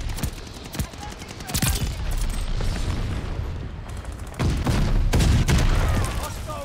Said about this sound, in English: It's just the grenades and explosions